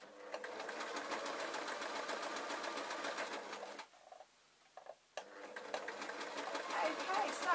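A sewing machine stitches a man's tee shirt, running at a steady rapid clatter, pausing briefly and then running again, close and prominent, with faint birdsong in the background.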